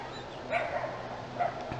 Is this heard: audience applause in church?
no